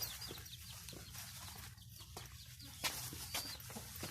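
Chickens kept by farmers near a rural hut cluck faintly in short, scattered calls against steady outdoor background noise, with no one talking.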